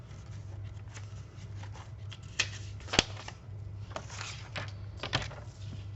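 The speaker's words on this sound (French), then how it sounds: "je vais venir couper un papier ici" Scissors cut thin craft paper for a mini album with a few crisp snips and rustles, including one sharp click, over a faint steady low hum, with no talking.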